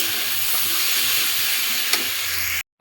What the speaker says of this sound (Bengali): দেখো, মাছটা ভেজে নিচ্ছে।